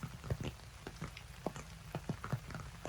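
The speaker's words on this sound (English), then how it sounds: "it's that nice kind of soft rain that's not pounding the ground too much" Soft rain falls on a garden with vegetable beds, a gentle steady patter with scattered distinct drops landing nearby, no voices.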